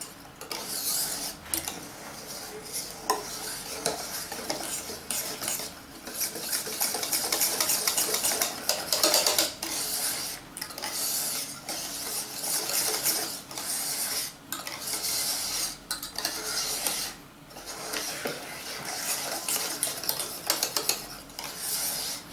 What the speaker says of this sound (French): Donc là j'ai du chocolat, de la crème et mes œufs cuits. Donc je vais incorporer tout ça.